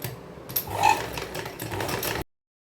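A sewing machine top-stitches the border on a saree being remade into a lehenga, running as a continuous close whir for about two seconds before it stops abruptly.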